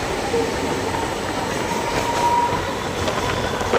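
A Mumbai local commuter train near Chembur rumbles steadily along the tracks, a continuous close roar with faint wheel squeals and clatter, no voices.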